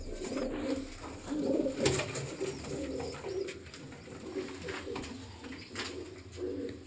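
Breeder's pigeons coo softly in a steady low murmur, several birds overlapping, with a few sharp knocks and flutters over faint background noise.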